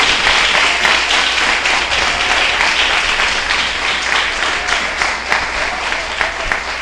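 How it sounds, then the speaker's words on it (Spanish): Steady applause from a crowd, hands clapping continuously and evenly at moderate loudness, with no talking over it. "yo hacía rato que no escuchaba un aplauso tan flaco"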